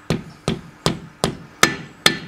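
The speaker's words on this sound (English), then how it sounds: "Our dead blow hammer saves a hell of a lot of work" A dead blow hammer taps a valve stem seal onto its valve guide, six evenly spaced sharp knocks close up, with the tone shifting slightly over the last few strikes.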